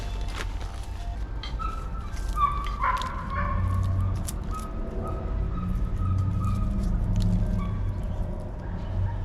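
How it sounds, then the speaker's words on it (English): A dog barks a few times in the distance beneath steady background noise and low rumbling. "You probably just heard somebody's dog barking in the background."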